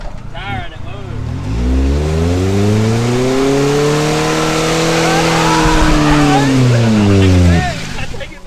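A Mazda race car engine revs up and holds against its 7,000 RPM rev limiter for several seconds, the steady rising harmonics loud and close before dropping away, with people talking nearby.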